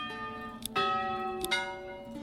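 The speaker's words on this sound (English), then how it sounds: "That last bell is hilarious." Church bell in the Manor Lords medieval video game, struck about twice with long ringing resonance that carries between strikes, moderately loud and alone.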